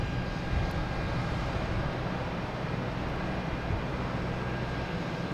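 Airliners at Boston Logan Airport, a loud continuous jet engine roar that holds steady and broad throughout, with no talking over it.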